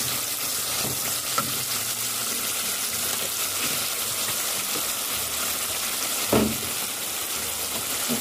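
Chicken pieces fry in cooked masala with a dense, constant sizzle heard close, while occasional soft scrapes of stirring and a brief louder clatter sound partway through.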